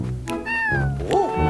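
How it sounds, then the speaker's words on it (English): Cat meowing in the video game Bowser's Fury: two quick mewing calls, the first rising and falling, the second short and curved, close and clear over soft game sounds. "There are those little kittens."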